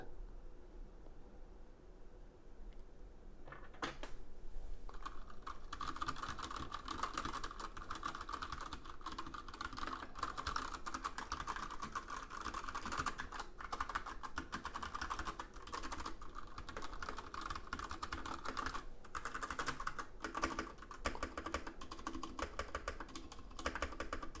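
Steady, continuous typing on a Royal Kludge RK100 mechanical keyboard, close and fairly loud, with a quiet start before the rapid keystrokes begin and continue without pause.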